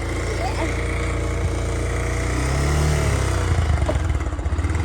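A motorcycle carries three riders through a village area of Arunachal Pradesh. Its engine drones steadily and closely with a low rumble and wind buffeting, swelling slightly toward the end, with faint voices mixed in.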